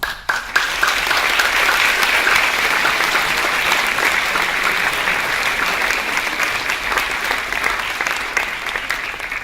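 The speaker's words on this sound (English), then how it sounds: "please join us in giving the guests a big round of applause." Loud, sustained applause from a large audience at an opening ceremony fills the space, steady throughout with no voices standing out.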